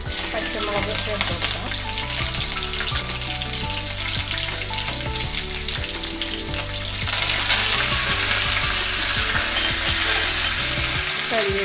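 Green chilies sizzling in hot oil while onion pickle is made, a dense continuous frying crackle with stirring that grows a little louder partway through, close up, with a voice speaking at times.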